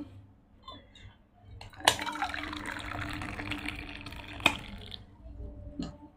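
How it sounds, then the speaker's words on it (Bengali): Water poured from a flask into a bowl: a soft running trickle and splash lasting a few seconds, bracketed by sharp clinks of the flask against the bowl, close and fairly quiet. "এই যে ফ্লাক্স থেকে জল নিচ্ছি।"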